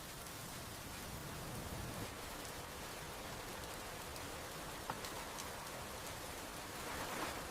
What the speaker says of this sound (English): We cannot stay here long in this rain.